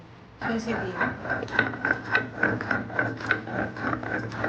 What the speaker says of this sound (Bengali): সরষেটা বাটবো মিক্সিতে বাটবো না শিলপাটায় বাটবো